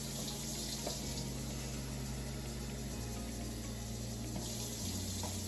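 Water runs steadily from a tap into a container, about four cups for making kimchi, a continuous splashing stream with slight shifts in tone as it fills.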